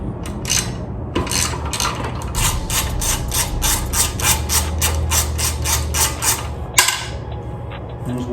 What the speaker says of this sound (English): I'm using a deep socket and a ratchet